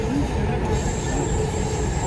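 A crowded metro train runs steadily along the track, a continuous loud rumble and rattling with a faint high wheel whine, heard from inside the carriage with no talk.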